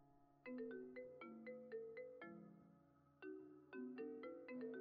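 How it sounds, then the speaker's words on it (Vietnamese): A melodic phone ringtone chimes through a repeating sequence of bright plucked notes in a drama scene, two phrases separated by a short pause, fairly quiet and heard without talk. "Anh đi nghe điện thoại."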